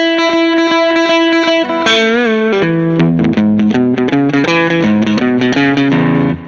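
An electric guitar with coil-split Strat tone through a Positive Grid Spark practice amp plays a quick run of bright, snappy single notes and a few chords, clean and close, with no voices.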